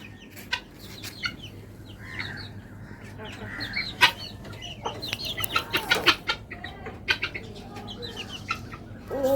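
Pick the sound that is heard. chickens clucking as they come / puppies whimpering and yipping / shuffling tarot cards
chickens clucking as they come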